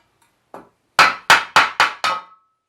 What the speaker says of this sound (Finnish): Mä painastan tähän vasaralla.